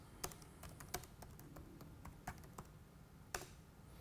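Keystrokes on a computer keyboard as a shell command is typed, a run of irregular, crisp clicks over a low steady hum, with a sharper double tap near the end.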